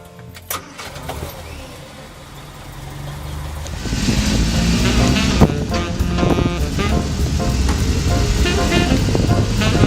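An old classic car engine cranks and catches, then settles into a loud, steady idle as it warms up, with a rough rumbling drone that holds for several seconds.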